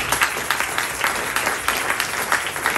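Audience applause fills a church during a wedding ceremony, steady and dense with rhythmic clap bursts throughout, fairly close and without talk.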